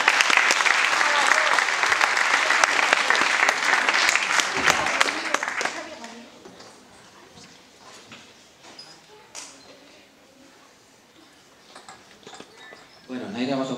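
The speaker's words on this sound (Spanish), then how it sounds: "Un fuerte aplauso para Naira." Audience applause at a student music school recital in Vitigudino, loud and dense for about six seconds before fading into scattered claps and room murmur.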